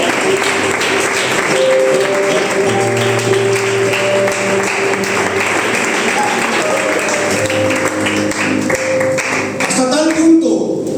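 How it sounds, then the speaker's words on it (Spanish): Church congregation clapping for the Lord, a loud continuous patter of hands accompanied by sustained organ or keyboard chords, with voices mixed in and the sound tapering off near the end. "Dale un aplauso al Señor,"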